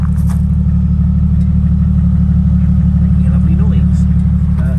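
A Jeep Cherokee XJ with a 4-litre straight-six idles close up at the exhaust, a loud, steady low rumble that holds without change throughout, with faint background noise above it.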